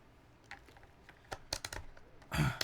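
Keys on a mechanical keyboard, fitted with Invokeys switches that chatter, are struck in scattered, irregular clicks, some sharp and close, ending in a quick louder burst of typing.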